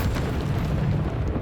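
A Bombarda spell in Hogwarts Legacy on Switch goes off as a single deep, rumbling explosion that fills the short moment, loud and sustained.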